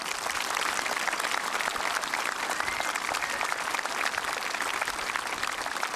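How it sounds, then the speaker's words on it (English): Steady applause from a gathered audience at a memorial event honoring first responders, a dense continuous clatter of many hands lasting throughout with no voices over it. "Please, let's give them a nice round of applause."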